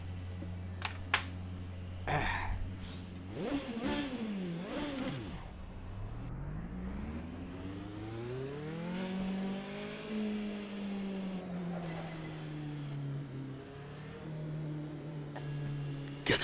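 A car in a racing video game revs and accelerates, its engine pitch swinging up and down through gear changes, fairly faint, with a few key clicks early on and no talking.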